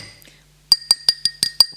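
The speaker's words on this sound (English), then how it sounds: "We've stopped clinking." Glasses or teacups clink together in a toast, producing six bright, ringing clinks at a steady rhythm after a near-silent start, close and clear with no talking over them.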